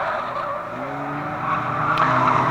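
Street stock race cars roar loudly through a turn at a dirt oval raceway, engines droning with tires squealing and skidding, the sound swelling steadily over the whole stretch.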